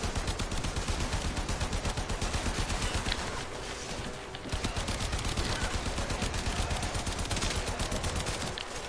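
Rapid automatic weapon fire in the Warframe video game, a fast, regular stream of shots that pauses briefly in the middle and then resumes at the same loud, even pace.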